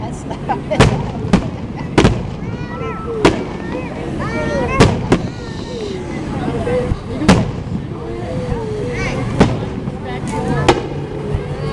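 Fireworks burst over River Oaks at night as a series of sharp, loud, echoing bangs at irregular intervals, with crackles and whistles between them and people talking underneath.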